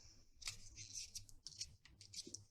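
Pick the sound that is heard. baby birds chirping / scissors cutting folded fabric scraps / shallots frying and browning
scissors cutting folded fabric scraps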